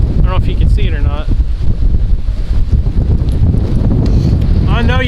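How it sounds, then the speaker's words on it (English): Strong wind roars over the microphone outdoors in a yard, a steady loud low rumble with gusts, while someone talks over it at the start and end. "This wind is insane."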